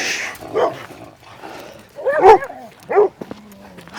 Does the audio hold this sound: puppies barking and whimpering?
yes